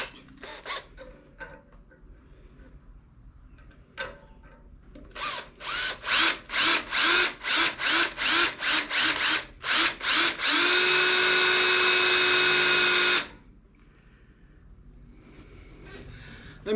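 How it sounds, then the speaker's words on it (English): A power drill bores into metal while fixing the smoke stack on a Case International 255 tractor, starting with short stuttering bursts and building to a rapid series of pulses, then one sustained loud whine before stopping. "This drill bit seems kind of big."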